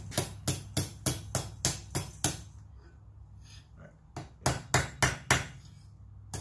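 Hammer blows striking a hot steel bottle opener on an anvil, a quick run of about nine sharp ringing strikes, a short pause, then five more, loud and close.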